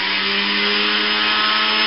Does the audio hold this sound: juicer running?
yes